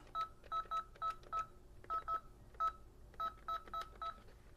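A telephone keypad dials a number: about fifteen crisp DTMF beeps in quick, uneven clusters, clear and close, with no talking.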